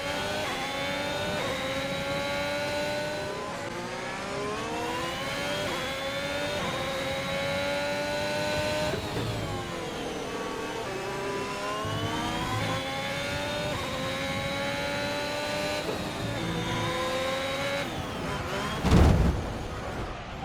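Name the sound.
F1 race car engine in F1 2021 video game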